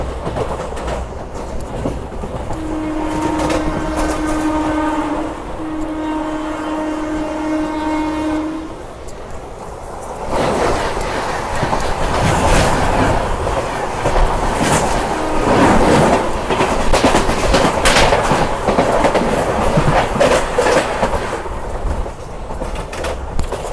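A slow passenger train on the Mumbai–Ahmedabad line pulls into Udhna Junction railway station. A loud, sustained horn blast comes first, then close, heavy rumbling and clattering of wagons rolling over the tracks.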